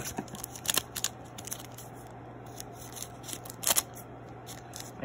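Scissors snip open a hockey trading card pack, with several close, crisp cuts and crinkling foil wrapper sounds over a low background hum.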